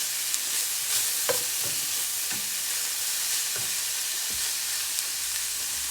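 Ground beef sizzles steadily in a hot pan while a utensil stirs it, a loud, continuous frying hiss broken by a few sharp scraping clicks, with no voices.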